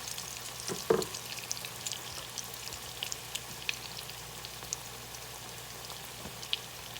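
Canned-salmon patties frying in hot oil in a Southern home kitchen, giving a steady close sizzle with scattered small pops and crackles throughout, no voices.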